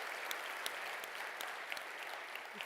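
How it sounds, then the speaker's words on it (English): Steady applause from a conference audience at a New Zealand user conference plenary, a dense even wash of clapping heard at moderate distance with no voices on top. "if I could just have one final round of applause for our four presenters today"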